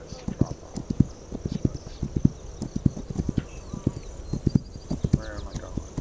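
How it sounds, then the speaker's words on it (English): Horses' hooves clip-clop in a quick, uneven trotting rhythm in the strategy game This Land is my land. The hooves are close and loud, with a brief whinny and a voice murmuring underneath. "Take a couple of horses."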